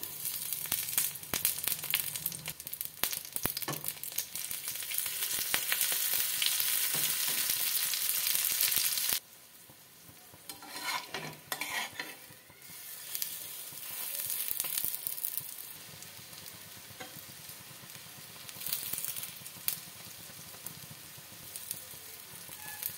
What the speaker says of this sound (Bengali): চাটুর তেলটা গরম হয়ে গেছে। একটা একটা করে কুমড়ো ফুলগুলো দিয়ে দেব।